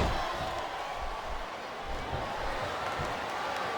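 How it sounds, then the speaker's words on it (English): A big WWE wrestling arena crowd roaring in a continuous wash of cheers, loud and unbroken, with an announcer's voice faintly audible over it. "The crowd is coming alive"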